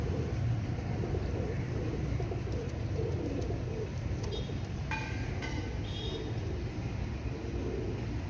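Royal Teddy pigeons in a loft, two males among several birds, give low murmuring coos in a continuous soft background, with a few brief higher chirps and faint clatter in the middle.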